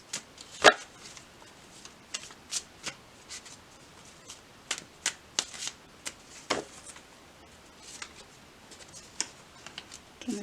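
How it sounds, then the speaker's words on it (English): A deck of tarot cards is shuffled by hand, giving a string of crisp, irregular riffling snaps and clicks, close and fairly loud, with no voices. "next we're going to pull tarot cards to see what story comes through for Aquarius"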